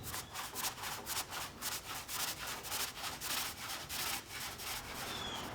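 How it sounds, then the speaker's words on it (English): A small foam roller spreads paint across plywood for a mid-century modern shelf, making a steady, close scrubbing rasp in repeated back-and-forth strokes with no talking. "Using a small roller, I'm going to apply a couple coats to get a nice even color all the way around."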